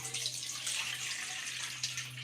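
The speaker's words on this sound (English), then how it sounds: "I'm gonna add some water in it." Water pours steadily from a tap into a bowl, a continuous close splashing rush with a constant low hum underneath and no talking.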